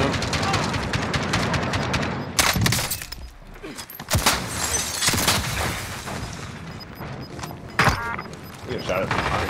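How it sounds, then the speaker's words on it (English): Gunfire in the video game Warzone crackles through a busy firefight, with sharp close shots and heavier booms scattered irregularly, while players talk over it. "We got shot at behind."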